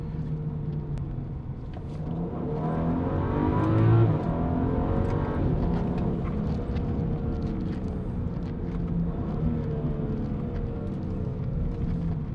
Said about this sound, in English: So this is downshift, so you can feel there's a lot of noise coming from that engine.